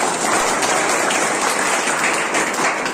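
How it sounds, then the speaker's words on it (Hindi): Loud, sustained applause from a large audience at an event, a continuous roar of many hands clapping at an even level throughout, with no one speaking over it. "और एक बार आप सभी के लिए भी जोरदार ताली बजाएं,"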